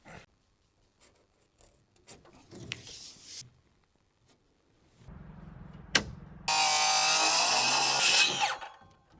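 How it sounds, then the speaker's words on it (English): Power tool cutting plywood on an off-grid cabin build, with scattered workshop knocks and handling noise followed by a loud, steady whining cut of about two seconds close to the mic that then winds down. "For right now, we're just gonna cut some plywood"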